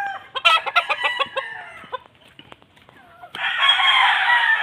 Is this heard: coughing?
no